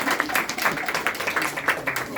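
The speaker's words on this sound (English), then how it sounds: "Let's give a round of applause for his joke." Brief, scattered audience clapping after a joke during a talk, individual claps audible as an uneven patter at moderate loudness.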